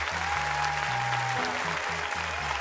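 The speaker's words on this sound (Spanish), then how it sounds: "la gente aplaude, le gustó." Steady, dense clapping from a theatre audience after a tango and bandoneón audition on Got Talent Uruguay, with low sustained musical tones running beneath the applause throughout.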